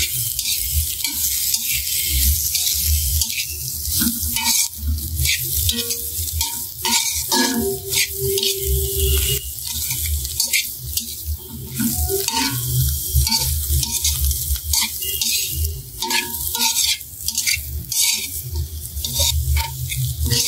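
Capsicum and mixed vegetables stir-frying in a pan for noodles, a loud continuous sizzle with frequent scraping and clinking of a utensil against the pan.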